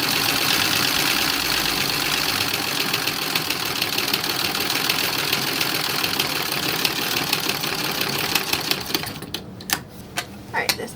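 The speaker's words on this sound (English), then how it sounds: "Stitching this on." Sewing machine stitching a tab onto the cuff of a 1940s-style dress, a loud continuous mechanical whirr with rapid needle clatter, slowing into a few separate thumps at the end.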